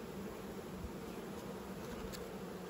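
Honey bees buzz steadily at an open beehive during a frame inspection, a dense, even drone close by with no voices.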